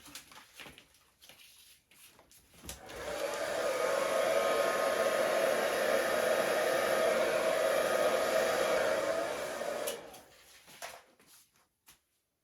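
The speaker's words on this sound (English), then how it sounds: "I'm actually going to use my hairdryer" A hair dryer blows with a steady, loud whir for about seven seconds over a freshly poured acrylic paint canvas, then cuts off, leaving quiet background.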